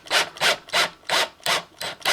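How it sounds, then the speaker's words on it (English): Holes are drilled by hand into an enclosure for inserts, giving about seven rhythmic, scratchy grinding strokes, close and evenly spaced, with no talk. "the easiest way I found of doing them is just drilling very"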